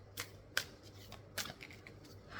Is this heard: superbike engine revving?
no